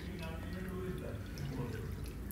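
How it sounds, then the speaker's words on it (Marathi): Water is poured into a pan of paneer gravy, a soft liquid trickle and splash that sits under a person talking close by. "इथे मी थोडंसं पाणी घालत आहे।"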